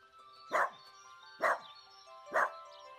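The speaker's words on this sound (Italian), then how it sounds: "Dolcissimo il nostro cucciolo!" A cartoon puppy gives three evenly spaced, bright barks, each short and close, over a faint steady background tone.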